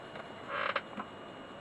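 An Atari 1050 floppy disk drive runs roughly, giving a grinding, creaking mechanical rasp that swells briefly over a constant hiss and then settles back, close and without any voices.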